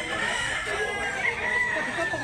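A rooster at a chicken market in North Cebu crows in one sustained, loud call amid a busy background, close by and continuous for a couple of seconds.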